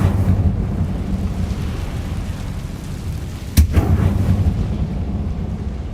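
An Incendio fire spell cast in Hogwarts Legacy bursts out as a sudden sharp crackling whoosh over a deep rumbling, stormy game ambience, a single short blast midway through.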